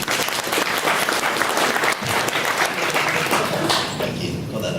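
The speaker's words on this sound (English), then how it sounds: "If I can ask you to give me a round of applause." An audience breaks into a full round of applause, dense clapping that stays loud and then tapers off near the end.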